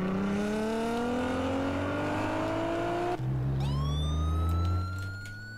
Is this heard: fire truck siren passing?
yes